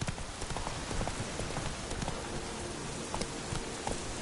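Roach, the horse in The Witcher 3, gallops in a steady, loud rhythm of hoofbeats, heard close and continuous over a dense, noisy background.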